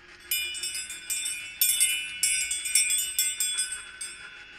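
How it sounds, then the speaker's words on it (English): A small meditation bell is struck about eight times in quick succession, each bright, shimmering ring decaying briefly before the next strike, clear and close with no talk. "As you hear my bell ring, you can let yourself"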